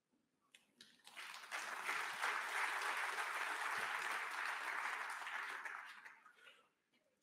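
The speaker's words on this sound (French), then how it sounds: "Ça vaut des applaudissements" An audience at a 2021 corporate security conference breaks into applause after an opening speech; the clapping swells quickly, holds full and steady for several seconds, then tapers off.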